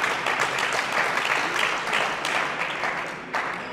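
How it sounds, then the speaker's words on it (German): A crowd applauding at a badminton match point in a Bundesliga game in Graz, continuous rhythmic clapping from many spectators, steady and moderately loud throughout with a slight accent near the end. "Matchball wird eingeklatscht vom"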